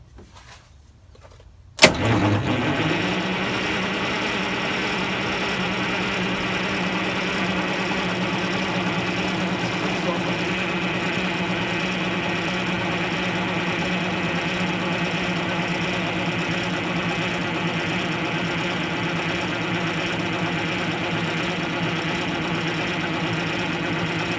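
After a short quiet stretch, a bus engine catches with an abrupt burst and settles into a steady, loud, even running drone that carries on for over twenty seconds without speech.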